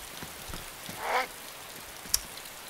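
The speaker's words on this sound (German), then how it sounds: "Also, das ist mit dem Regen ja echt ekelhaft." Steady rain falling in the video game DayZ, a constant hiss of drops spread evenly throughout, with a couple of brief game sounds rising over it and no talk.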